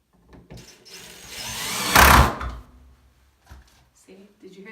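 An impact driver drives a screw through a bracket into reclaimed wood in one short, loud burst in the middle, with softer handling noises and a speaking voice around it.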